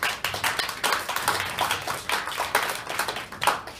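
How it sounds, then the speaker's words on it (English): An audience claps at a stage event, a steady patter of applause with no voices. "give a big round of applause for everybody else who touched the stage today"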